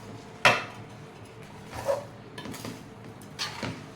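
A spoon scraping and clinking in a bowl while mixing grated gooseberry chutney, a few sharp taps followed by softer intermittent stirring knocks, close and quiet with no talk.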